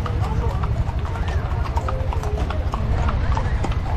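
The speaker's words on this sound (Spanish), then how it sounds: "Y aquí se acerca la cabalgata charra." Many horses' hooves clip-clop steadily in a charro horseback parade at an anniversary celebration in Pachuca, a dense loud patter with people talking in the crowd over it.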